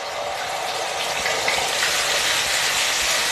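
Onion paste sizzles loudly and steadily in hot oil with panch phoron, a dense continuous frying hiss with no talk over it.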